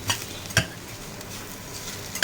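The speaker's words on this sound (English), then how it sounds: "Mix everything nicely." Spoon stirring and scraping through a pan of leftover chapati pieces with kanda lasun masala, a few distinct clinks and scrapes over a faint sizzle, close up with no talking.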